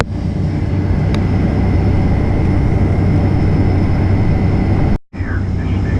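A Delta jet airliner comes in to land on runway 28L, a steady, loud broadband engine roar and rumble filling the whole stretch, with a brief cut near the end before the roar resumes.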